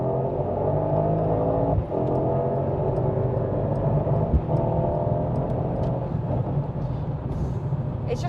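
A sports car accelerates at full power along a test track at the Millbrook Proving Ground, its engine a strong, sustained roar heard from inside the cabin, with a brief dip near two seconds.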